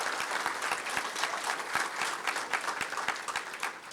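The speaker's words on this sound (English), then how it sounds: "So give us a nice welcoming round of applause." Crowd in a football stadium gives a welcoming round of applause at a school attendance initiative launch on a Saturday afternoon, a loud, sustained wash of clapping with distinct close claps throughout and no break.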